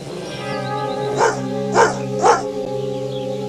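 A cartoon puppy gives three sharp, evenly spaced barks over a steady musical backing, close and fairly loud.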